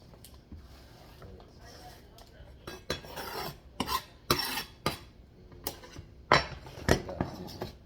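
Rice and fried fish are stirred together in a pot, with a run of scraping, clinking spoon strikes that grow louder and more frequent, close by in a home kitchen.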